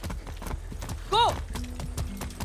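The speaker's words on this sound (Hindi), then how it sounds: "घोड़े की स्पीड बहुत है, देख रहे हो कितनी स्पीड में भाग रहा है" Rapid rhythmic hoofbeats of a galloping horse in the Far Cry 6 game, steady clip-clop with a short whinny partway through and someone talking over it.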